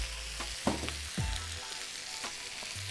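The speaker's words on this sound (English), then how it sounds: "So we have our onions, our chilies, and our tomatoes going" Onions, chilies and tomatoes frying in a pan in a Peruvian cooking class, with a soft, continuous sizzle and occasional scraping and tapping from a utensil, close but quiet, with no talking.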